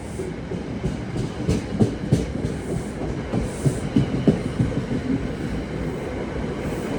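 A New Jersey Transit train hauled by EMD diesels rolls past, its wheels beating out a steady clickety-clack with rumbling wagons, loud and sustained throughout without any talk.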